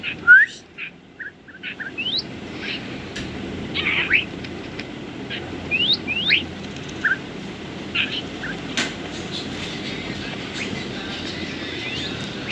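Minecraft birds chirping and whistling in short repeated tweets over a steady low background hum, several calls scattered through the scene.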